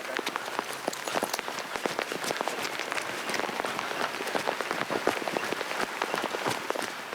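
Steady rain patters and crackles on a hard surface, a dense continuous hiss of drops at fairly close range.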